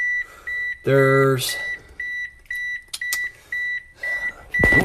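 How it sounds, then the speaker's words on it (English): Repeated short electronic beeps in a steady rhythm, a 1998 Mitsubishi Eclipse GSX's warning chime, with someone talking over them and brief clatter. "That's annoying, stop beeping at me."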